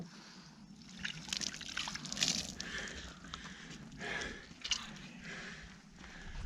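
Water trickles and splashes while pig meat for a Fourth of July pig roast is rinsed, a faint, irregular wet spattering with occasional louder gushes and handling sounds.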